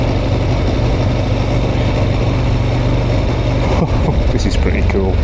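Ducati 1098S motorcycle engine running steadily while riding in second gear, a continuous loud mid-low drone with a brief dip near the end; a voice talks over the engine.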